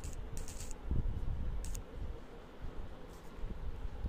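Soft taps and clicks come from typing a new WhatsApp message on a phone, irregular and quiet over a faint background hiss, with no talk.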